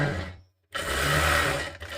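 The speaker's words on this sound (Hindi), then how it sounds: "इस निशान के हिसाब से हम पूरी सीधी सिलाई लगा देते हैं" A sewing machine stitching a straight seam along a marked margin on a blouse sleeve, running in a close, whirring burst, stopping for a split second, then whirring again steadily to the end.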